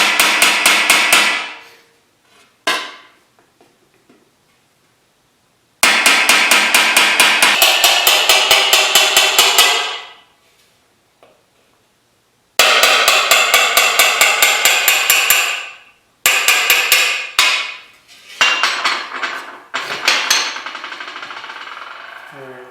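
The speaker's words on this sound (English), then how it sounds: "I'm just going to lightly tap and slide my chase right along the line." A hammer taps a metal chasing tool along the flange line of a reverse-curve fender in rapid, ringing metallic bursts, several runs of dense strikes separated by silences, loud and close with no talk.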